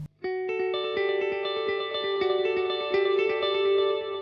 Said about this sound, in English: So here's a delay sound in mono,